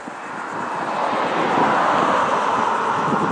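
A Florida East Coast freight train approaches as a steady, broad rumble that swells slightly and holds, with no voices over it.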